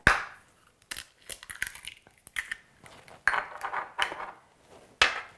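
An egg is cracked and dropped into muffin batter with a few sharp taps and clinks of shell and utensil against a bowl, close and distinct, with no talking.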